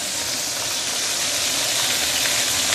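Fish fries in a hot pan alongside spring ginger, giving a steady, dense sizzle and crackle that stays even and close for a few seconds with no voices.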